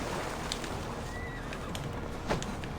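A horse in the video game Assassin's Creed Valhalla whinnies and snorts over a dense, loud game soundscape of rumbling and clatter, the neigh rising briefly amid continuous background noise.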